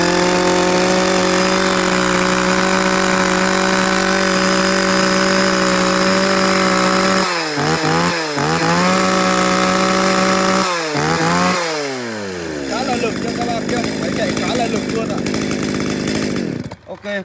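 A used Japanese Stihl chainsaw engine roars at high, steady revs, then blips and revs up and down several times before idling off and cutting out.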